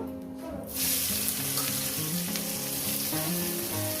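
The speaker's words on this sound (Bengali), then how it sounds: "সামান্য পরিমাণে জিরে ফোড়ন দিলাম কয়েক সেকেন্ড ভেজে নেব দিয়ে দেবো এখানে পেঁয়াজ কুচো" Chopped onion goes into hot oil already sizzling with cumin seeds, and a sudden loud frying hiss bursts out, then continues steadily with some bubbling and stirring close by.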